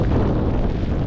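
A strong, cold winter wind in Canada buffets the microphone with a loud, continuous low roar and rumble that lasts the whole short moment.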